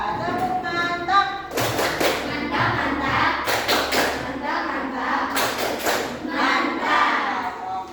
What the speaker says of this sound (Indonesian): Boleh kasih tepuk tangan buat Afika.